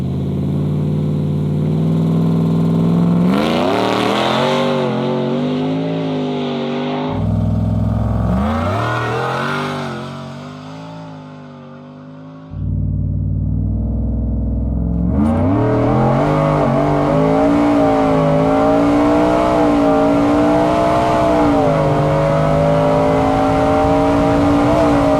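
A 4x4 work truck launches down an airstrip drag run, its engine revving hard through gear changes with brief dips between pulls, loud and close throughout with no talking.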